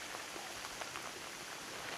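Monsoon rain falls on a fog-covered hillside, a soft, even hiss with faint scattered drop patter, distant and quiet throughout.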